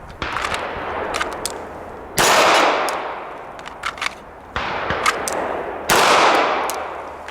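Sig Legion 9mm pistol fired at a range: four sharp, loud shots at uneven intervals, each ringing out and decaying between them, with no talking.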